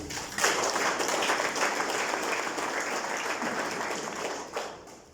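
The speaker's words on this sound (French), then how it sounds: "je crois que vous méritez les applaudissements." An audience applauds at an event for local entrepreneurs in Mauritius, a steady wash of many hands clapping at moderate volume that tapers slightly near the end.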